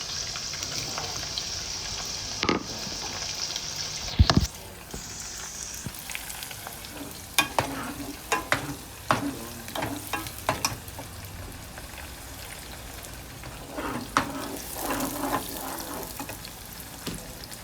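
Onions frying in a pot as the base for Ghanaian yam porridge, a steady close sizzle with intermittent stirring clatters and scrapes, with no talking.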